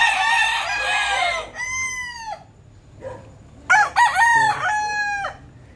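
A Texas gamefowl rooster crows loudly several times up close, with clucking and other fowl calls in between.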